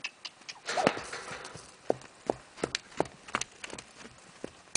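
Horse hooves clip-clop in a steady, uneven rhythm of sharp knocks close by, with a brief breathy snort early on and light background noise.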